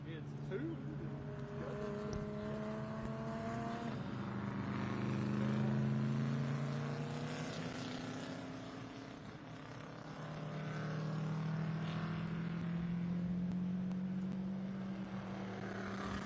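A Porsche and a VW GTI race car dueling side by side at Lime Rock in an SVRA vintage race: steady loud engine drone with rising and falling pitch as the cars pass, a commentator talking over it.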